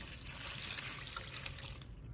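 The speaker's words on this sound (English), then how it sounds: "I pour about 2 liters of water into the pot" About two liters of water pour steadily into a pot for a boil with onion peels and rosemary leaves, a continuous close splashing trickle that eases slightly at the end.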